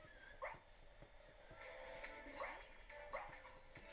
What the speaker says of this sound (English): It is a dog, like a Fido, made of bread, hence the dough.